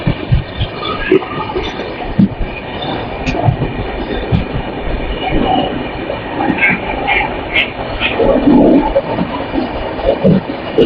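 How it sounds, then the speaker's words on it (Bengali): Mumbai Mail passenger train running near Howrah Junction, a steady loud rumble of rolling railcars with rattling wheels and occasional squeals throughout. "ট্রেনটা দেখছো পুরো রানিং করে দিয়েছে।"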